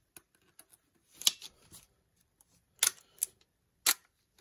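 Faint click-and-clack mechanical operation from a Nikon camera with a Dandelion chip taped to a test lens: a few soft ticks, then three sharp shutter-like snaps spaced about a second apart in a quiet room.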